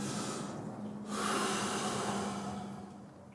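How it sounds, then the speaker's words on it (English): A deep breath drawn in and let out slowly during a relaxation exercise, close and soft, with a steady airy rush that swells in the middle and fades, no talking. "deep breath in and out"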